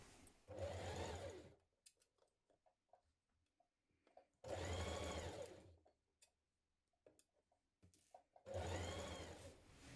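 A sewing machine stitches a seam on children's dungarees in three loud motor bursts of a few seconds each, separated by quiet pauses with small clicks and handling of the fabric.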